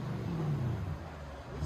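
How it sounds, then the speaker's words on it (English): A Lexus GS 400 with its 1UZ V8 and true dual exhaust through Valvetronic mufflers, valves closed, idles with a steady low, muffled rumble for a brief moment. "So this is going to be a GS 400, and they gave it true duals with Valvetronic mufflers"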